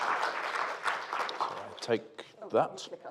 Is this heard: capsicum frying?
no